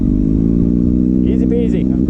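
Kawasaki Ninja ZX6R motorcycle engine running loud and close during wheelie practice, a steady throbbing idle-to-mid rev with a slight throttle blip near the end, continuous throughout.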